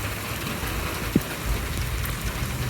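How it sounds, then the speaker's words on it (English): Heavy rain in a 2020 Calgary storm with hail, a steady dense hiss of falling water with no break, close and even, with one brief soft knock partway through. "just as the rain came down"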